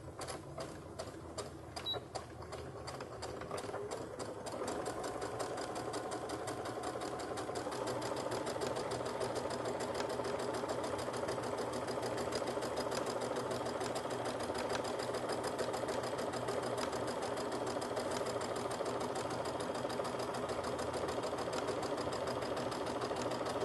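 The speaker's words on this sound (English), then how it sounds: "And we'll sew." A sewing machine stitches a French seam with a 3/8 inch seam allowance, starting with a few slow, separate needle strokes and then settling into a steady, fast, continuous mechanical whir that runs loud and unbroken.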